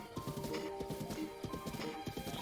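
Horse hooves clip-clop steadily in the video game Breath of the Wild, a brisk rhythmic trot of repeated hoofbeats over game music and ambience, close and continuous throughout.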